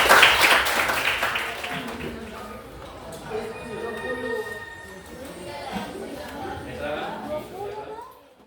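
An audience at a teachers' education jamboree breaks into brief clapping at the start, which fades quickly as a voice begins talking over the room's murmur.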